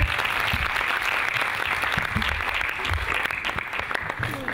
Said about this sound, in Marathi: अद्वैतसाठी जोरदार टाळ्या होऊ दे